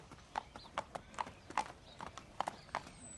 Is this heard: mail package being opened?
no